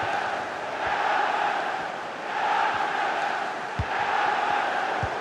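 A large stadium crowd roars steadily through a Premier League match between West Ham United and Chelsea in the FIFA 23 football game, a continuous broad swell of noise with a few sharp thuds.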